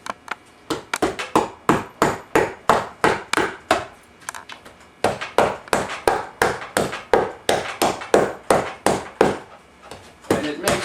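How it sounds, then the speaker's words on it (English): An upholstery staple-removing tool knocks staples out of a chair's trim in a steady series of sharp, loud strikes, about two per second, with a brief pause midway. "pulling staples, this thing knocks them out for you."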